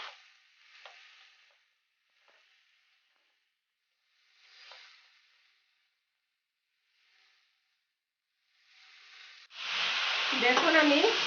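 Spring roll vegetable filling with spring onion fries in a pan, starting with a few soft, faint stirring hisses separated by quiet gaps and ending in a sudden loud, steady sizzle.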